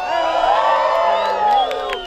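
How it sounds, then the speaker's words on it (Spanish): A crowd at a gastronomy festival in Baja California Sur shouts and cheers loudly on request, a dense swell of whoops and yells that rises and holds throughout. "A ver, toda la gente del norte, el grito."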